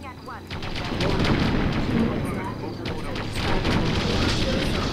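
Special weapon firing in the video game Ground Control, a dense, continuous barrage of booming gunfire and blasts lasting several seconds, loud and close, with explosive bursts layered over the rumble.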